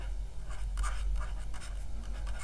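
A marker or chalk scrapes across a classroom board in short, scratchy strokes. It is fairly loud and close over a steady low hum, with no talking.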